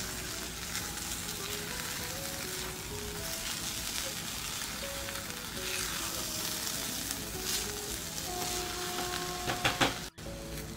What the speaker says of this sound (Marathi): डाळ तांदूळ छान परतलं गेलंय।